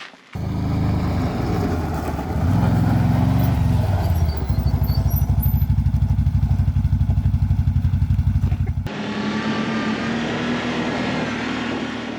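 A borrowed quad bike (ATV) engine runs loud and close with a steady throbbing drone, the tone changing abruptly near the end, no talk.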